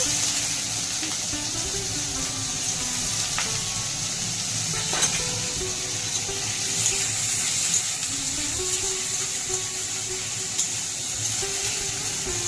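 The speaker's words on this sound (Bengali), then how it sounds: "একটু হালকা করে পনিরটা ভেজে দেবো যাতে একটু খেতে ভালো হবে" Paneer cubes frying lightly in oil in a home kitchen pan for a vegetarian paneer and potato curry, a steady close sizzle throughout with occasional stirring clinks and scrapes, no talking.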